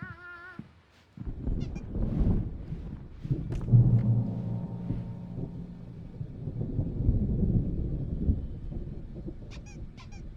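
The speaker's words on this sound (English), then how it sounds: "There's a storm coming. Oh, what a storm." A rumbling thunderstorm rolls through a scene of the game Alan Wake Remastered, loud low rumble building after a quiet opening and sustained across the clip, with a few faint higher sounds over it.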